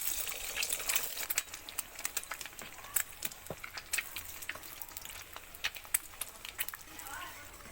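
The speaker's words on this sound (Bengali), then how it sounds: "এবার ডিমগুলো ফাটিয়ে দেব।" Cracked eggs fry in oil in a wok, giving a crackling, spattering sizzle full of sharp pops, fairly quiet and close, with a voice speaking over it.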